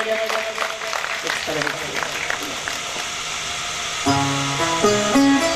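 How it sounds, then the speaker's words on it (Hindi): An audience claps in welcome at a Shri Bhagwat Katha gathering in Kanau, Hathras, a dense crowd patter that runs for a few seconds before a voice and tonal music take over. "जब किसी का स्वागत करते हैं तो तालियां बजा के स्वागत किया जाता है, जम के बजाएगा"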